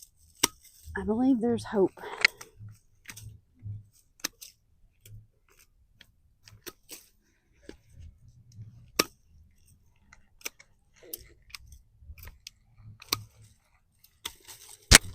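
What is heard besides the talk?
cutting green Abelia shrub limbs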